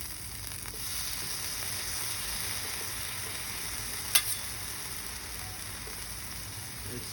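Food sizzles steadily on a hot griddle after being flipped, a continuous bright frying hiss with one brief sharp clatter partway through, no talking.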